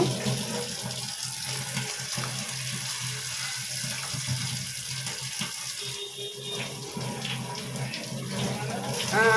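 Running water pours steadily from a tap, splashing over goat meat being washed, with some faint handling noises in the background.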